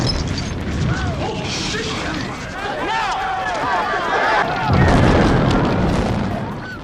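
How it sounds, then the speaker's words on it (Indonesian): A car hit by a Molotov cocktail explodes in the film The Warriors, a booming blast rumbling out amid clattering debris and shouting voices, loud and close, the low roar swelling near the end. "Di saat mobil itu meledak,"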